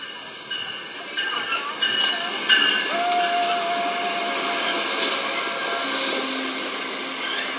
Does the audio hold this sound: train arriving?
yes